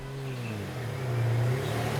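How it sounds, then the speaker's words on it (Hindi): A car engine revs steadily, a continuous mid-pitched drone rising slightly in pitch and loudness midway, close and alone without talk. "गाड़ी की आवाज"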